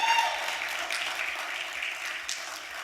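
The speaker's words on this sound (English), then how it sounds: "round of applause" Steady applause from an audience at an awards celebration, sustained and fairly even throughout, with no voices standing out above the clapping.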